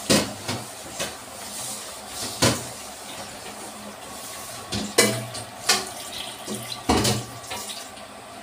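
Water runs from a household tap into a container, an uneven splashing stream with several sharp knocks and clunks in between, moderately close, with no talking.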